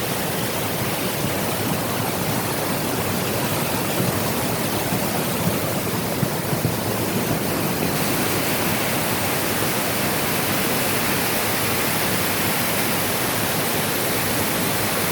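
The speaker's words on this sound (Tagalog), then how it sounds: "Grabing baha oh, di matabukan." Heavy rain pours down with rushing flood water, a loud, dense, unbroken roar that holds steady throughout with no voices.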